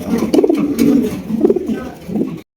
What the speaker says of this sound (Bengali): এখানে রয়েছে এক জোড়া ডেনিশ কবুতর